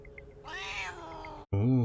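A cat meows in a Stranger Things episode, first a long drawn-out cry, then after a brief silence a louder, closer meow, with faint background sounds underneath.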